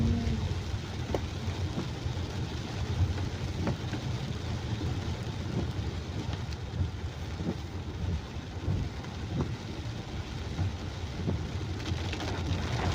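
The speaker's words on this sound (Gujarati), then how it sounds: "આટલો બધો ફૂલ વરસાદ છે" Heavy monsoon rain pours down steadily in a village, a dense constant hiss of drops striking surfaces with scattered sharper splashes, no voices.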